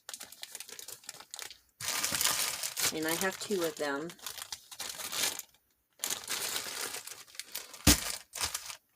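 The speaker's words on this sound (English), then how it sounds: "I put my open packs in a plastic bag" A plastic bag crinkling as packs of craft supplies are handled, bursts of crisp rustling close up, broken by short pauses, while someone talks.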